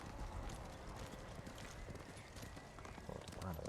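A horse's hooves clip-clop in steady rhythm in the game Ghost of Tsushima, fairly close but low in level, under a faint wash of background sound.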